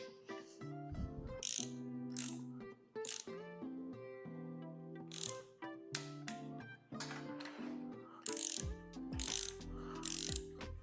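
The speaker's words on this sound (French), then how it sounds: "donc maintenant je viens serrer au couple." A torque wrench ratchets in quick clicking bursts while tightening bolts on a PSA TU engine during a restoration, with sharp metallic snaps between quieter handling sounds, close and without talk.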